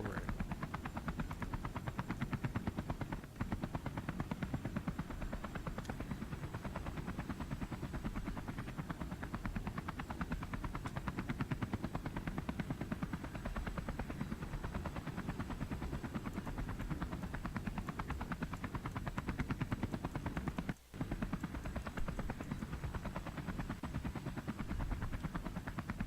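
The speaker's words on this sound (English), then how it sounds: "the helicopter's still sitting on the pad" A helicopter engine in the game Space Engineers drones steadily and continuously at moderate level, a constant whirring rotor and turbine roar with no talking.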